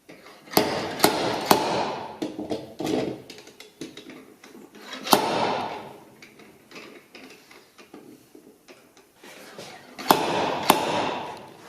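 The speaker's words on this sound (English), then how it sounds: "this is a seal puller 2. I'm going to give it a go to see if I can get rid of this bit of a dent" Repeated sharp metallic knocks and clunks from a seal puller working a dent out of a Land Rover bulkhead, coming in irregular bursts of close, loud strikes separated by quieter ratcheting pauses.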